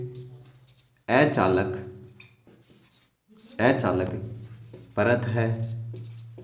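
Chalk or marker scratches against a board in bursty strokes during a Hindi physics lecture on electric fields, clearly audible under the teacher's voice.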